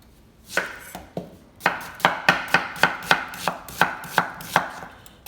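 A knife chops a white onion on a cutting board, with a dozen crisp, evenly spaced cuts that speed into a steady rhythm, close and clear, with no talking.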